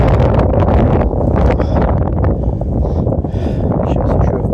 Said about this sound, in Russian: Ветер с моря дует.